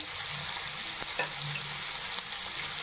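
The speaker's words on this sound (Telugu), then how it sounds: "ఉల్లిపాయలు కొంచెం బ్రౌన్ కలర్ అయ్యే వస్తే వేయించుకోవాలండి" Sliced onions salted and frying in a pan for shahi paneer give off a steady close sizzle, with a few light stirring scrapes and clicks and no voices.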